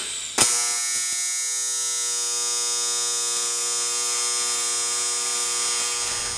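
TIG welder arc steadily welding aluminum uprights on a welding cart frame, a sharp onset then a continuous close buzzing hum with a bright high hiss that holds evenly for about six seconds, no talk.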